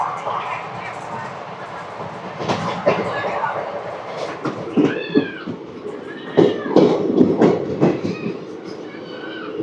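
The 17249 Tirupati–Kakinada Town Express nearing Samalkot Junction, heard as a rumbling, clattering run with high squealing wheel tones rising and falling, and voices at times.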